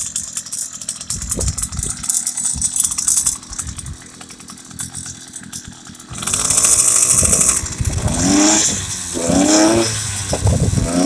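Small motorised bicycle engine idles with a rough, buzzing rattle, then catches louder and revs up and down in a few rising and falling surges, close by, with no one speaking.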